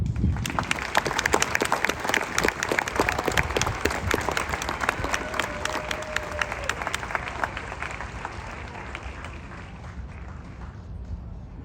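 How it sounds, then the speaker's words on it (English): Audience applause at an army AIT graduation ceremony for 68W combat medics at Fort Sam Houston: a large crowd claps steadily and loudly, the sound thinning and fading toward the end, with faint cheering mixed in. "Please give them all a round of applause."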